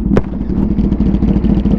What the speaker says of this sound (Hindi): बाकी एक बार एग्जॉस्ट और सुन लीजिए